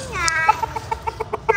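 Chickens cluck in a quick series of short, close calls on a farm, with a brief voice and background chatter mixed in.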